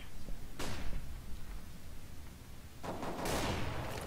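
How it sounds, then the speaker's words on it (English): A flashbang grenade goes off during a Counter-Strike match: two sharp, bright bangs stand out over a constant, noisy game background, the second followed by a longer ringing wash of noise. "Throwing flashbang."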